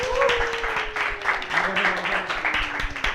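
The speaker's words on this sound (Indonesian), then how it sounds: "guys tepuk tangan untuk co-founder, co-owner Mervo Coffee, Revo" An audience at a live comedy show applauds for a coffee shop co-owner, with irregular clapping under voices and a sustained tone running through.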